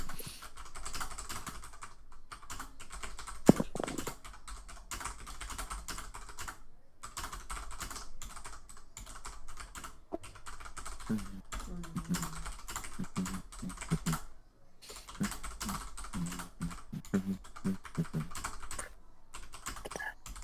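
Steady, rapid clatter of fingers typing on a mechanical keyboard, close and continuous, with short pauses between bursts.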